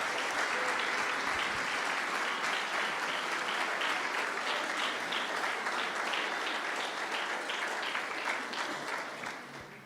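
Loud, sustained applause from a large church congregation fills the whole stretch, thick and continuous before tapering slightly at the end.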